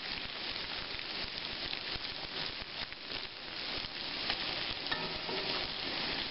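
Bacon fries in a pan with dense, continuous sizzling and crackling that stays loud and steady throughout, with occasional sharper pops and faint clinks, heard close up.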